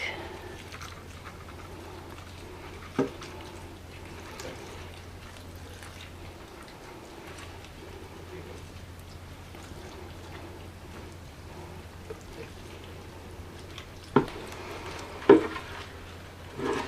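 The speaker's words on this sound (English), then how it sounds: "It's running out the bottom. Like most of my houseplants, the Pink Princess is in a nursery pot, which is, you can hear it dripping" Water dripping from the drainage holes of a plastic nursery pot holding a Pink Princess houseplant after a thorough soak, as faint scattered drips over quiet background with a few louder taps, no talking.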